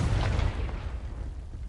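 A Confringo blasting spell in Hogwarts Legacy goes off as a short, low, booming explosion that starts loud and fades quickly.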